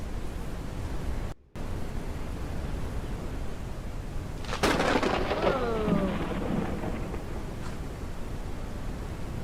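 A thunderstorm in the survival game HumanitZ: constant loud rain noise with a sharp thunder crack and rumble after a brief cut, no talking.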